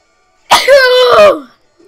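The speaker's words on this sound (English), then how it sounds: "I need to sneeze" A single close, loud sneeze, a sharp burst with a drawn-out voiced tail and a brief faint sound afterward.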